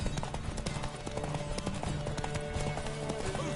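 Rapid clip-clop of a horse's galloping hooves in The Witcher 3: Wild Hunt on PS4, a constant thudding rhythm mixed with game noise and faint voices in the background.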